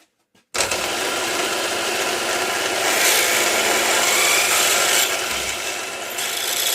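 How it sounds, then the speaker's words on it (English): A 7mm drill counterbores a hole for a cap head screw in a live steam model boiler part, a continuous close grinding and rasping cut that starts abruptly and runs steadily throughout. "Then we'll counterbore with the 7mm drill."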